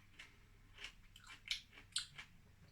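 Close-up crunching and chewing of fermented watermelon rind pickles, a series of moist, crisp bites and squishy chews at an uneven rhythm, fairly quiet with no speech.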